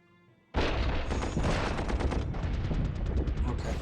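Artillery strike in a World War I strategy game, a sudden loud burst of heavy gunfire and explosions that starts abruptly and rumbles on continuously to the end.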